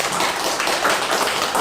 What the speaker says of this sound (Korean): 또 환영의 박수 부탁드리겠습니다.